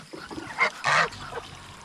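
Faint honking and quacking calls from ducks and turkeys, a couple of short squawks rising above a low background of farmyard noise.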